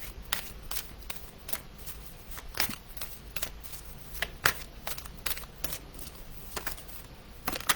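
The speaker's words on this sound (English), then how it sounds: "So Brooke, we're pulling a card for you right now." Oracle cards being shuffled by hand during a card reading, giving soft, quick riffling and snapping bursts in an irregular rhythm, close and quiet with no voices.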